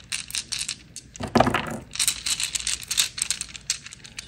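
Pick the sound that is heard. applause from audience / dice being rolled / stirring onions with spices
dice being rolled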